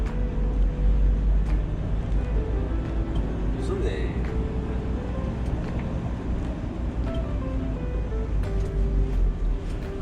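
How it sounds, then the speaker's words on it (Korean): Heavy roaring wind and crashing ocean waves during a typhoon, a dense constant rumble heard near a parked truck, with a voice speaking over it. "우와 파도가"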